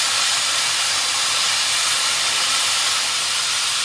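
A century-old steam train on the Bankstown line lets off a continuous loud, broad hiss of steam, close and steady with no talking.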